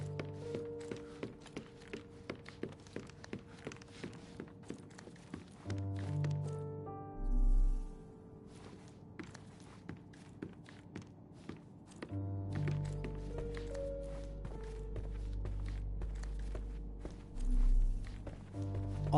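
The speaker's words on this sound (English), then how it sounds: "I heard footsteps upstairs a second ago" Footsteps from upstairs in a video game house thud in a steady, fairly quiet rhythm of soft taps, accompanied by low sustained musical tones and a couple of deeper swells.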